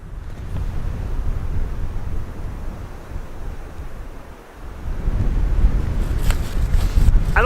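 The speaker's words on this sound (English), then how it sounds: "It's a little windy" Wind blows outdoors in Nova Scotia near a frozen lake, a steady broadband rush and rumble that swells toward the end, with no voices.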